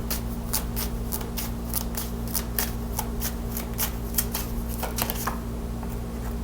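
Oracle cards being shuffled by hand, a close, rapid series of crisp riffling flicks in a steady rhythm over a low hum, without talk.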